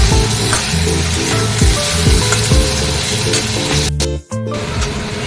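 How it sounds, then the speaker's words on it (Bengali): Spices, ginger-chili paste and tomato sizzling loudly in a pan while being stirred for aloo dum, a dense steady frying hiss with scraping stir strokes and a brief dip near the end, no voices. "এবার ভালো করে কষিয়ে নিয়ে জল দেবো"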